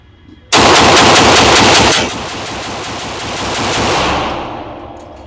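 An airsoft gun empties a full magazine in one long, very loud, close full-auto burst of rapid cracks, which gives way to a fading mechanical whir and rattle.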